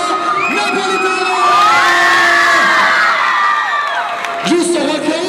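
A live crowd at an Italian music event, heavy with children's voices, shouts, whoops and cheers loudly in sustained waves of excitement, close and dense, with rising yells throughout.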